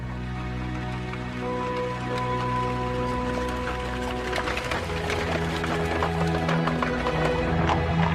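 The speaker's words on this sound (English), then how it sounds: "the fastest means of public transport was the horse-drawn coach" Hooves of horses drawing a heavy stagecoach clip-clop steadily along a hard road, close and busy, with a constant low rumble and rattle beneath the rhythmic hoofbeats.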